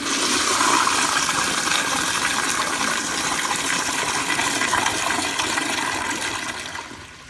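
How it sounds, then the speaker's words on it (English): A Crane Placidus toilet flushes hard with its water pressure turned all the way up, a loud, close, rushing gush that roars steadily for several seconds before easing off at the end. "here's a flush with the pressure turned all the way up"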